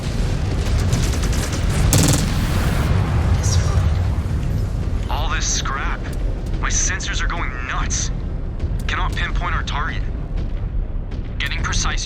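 Missile explosions in MechWarrior 5 Clans make heavy, continuous booming and rumbling blasts under layered game noise, with radio-style voices talking over the later part.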